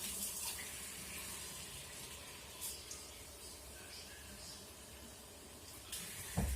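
Warm tap water at roughly 35-40 degrees runs steadily from a faucet while multigrain bread dough is prepared without a kneading machine, a constant rushing stream ending in a brief clunk.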